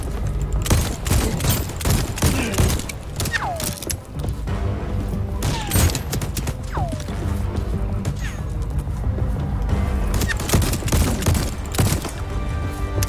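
Gunfire in the video game Voidtrain comes as rapid bursts of sharp shots and booms spread across the span, mixed with clanking game effects and a faint voice at times.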